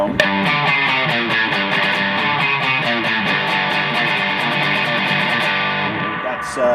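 Electric guitar through a Space Echo preamp with a gritty, slightly overdriven rockabilly tone and echo-like repeats, playing a steady rhythmic riff with crisp picked attacks throughout.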